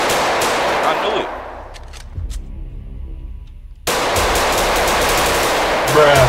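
Rapid automatic gunfire in the Roblox game Southside Chicago: a loud sustained burst, a brief quieter gap with a few scattered shots, then another dense, close burst of fire.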